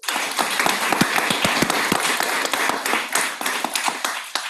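Steady audience applause at a guide dog graduation ceremony, many hands clapping together at a lively, sustained pace, fairly close and continuous.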